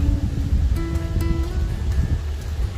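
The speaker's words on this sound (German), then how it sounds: "Der Wind rauscht in den Bäumen." Wind rushing through trees outdoors after dark, a steady broadband rustle with low rumbling gusts that never lets up, with faint tonal hum in the background.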